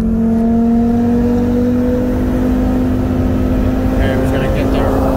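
A 2019 Audi RS3 with bolt-on upgrades running E85 fuel, heard from inside the cabin as a steady, loud engine drone holding a constant pitch, with a rising whine building near the end.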